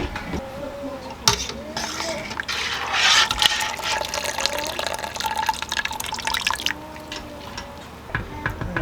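Whey streams from a batch of cheese into a one-gallon pot, a steady liquid pour with splashing and dripping that lasts throughout at close range.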